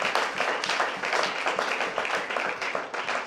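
A congregation claps and cheers during a pastor's French-language sermon in church, a fairly faint, continuous patter of many hands with rhythmic surges throughout.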